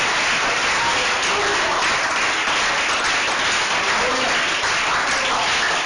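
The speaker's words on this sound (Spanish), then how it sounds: "Denle un aplauso a Jesús." A church congregation applauds during a sermon. The clapping is a steady, dense wash with no pauses, heard alone for several seconds.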